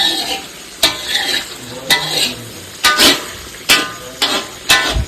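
Meat frying in a pan, a sizzling bed broken by about seven sharp, loud knocks and scrapes of a utensil against the pan at irregular intervals, close-up with no talk.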